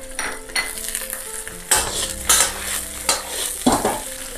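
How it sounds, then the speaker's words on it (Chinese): Pork is stir-fried in a wok coated with sugar melted to a deep red caramel, with sizzling under repeated louder scrapes and tosses of the spatula, close and alone without talk. "然后放上猪肉，简单翻炒两下。"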